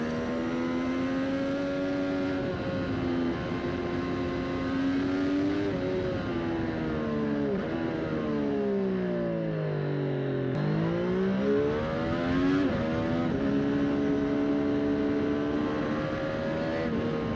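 A Triumph Street Triple 765 RS motorcycle engine idles steadily, then revs down and back up in smooth sweeping pitch changes, close and continuous.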